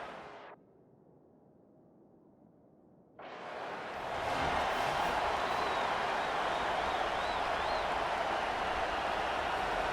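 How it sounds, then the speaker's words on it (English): A virtual stadium crowd in the EA Sports College Football video game roars after a brief hush, swelling into a loud sustained wall of cheering with whistles on top for the rest of the stretch. "this crowd bringing an ear-splitting welcome to their visitors"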